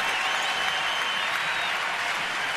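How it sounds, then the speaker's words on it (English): A baseball stadium crowd at a Miami Marlins at Washington Nationals game in August 2012 applauds and cheers steadily, a dense, continuous roar of clapping that holds at full strength throughout. "this crowd all of a sudden is some kind of into this game. Place is rocking"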